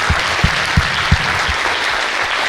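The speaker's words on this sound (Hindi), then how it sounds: "इन सब लोगों के लिए जोरदार तालियां होना चाहिए हमारे आर्टिस्ट को" An audience at an IIT Jodhpur social outreach event gives artists a loud, dense burst of sustained applause, with a few heavier thumps near the start and no speech over it.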